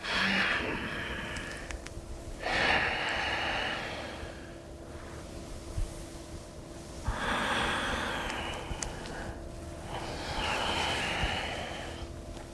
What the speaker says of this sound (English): no cueing for me, just the sound of your breath